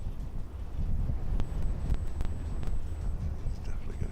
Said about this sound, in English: Certainly a lot windier up here than it was down there this morning